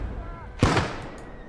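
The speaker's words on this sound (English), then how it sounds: "We've got double mortars in play." A single sharp mortar or artillery blast in a war game, loud and close, cutting through a low background hum and decaying over about a quarter second.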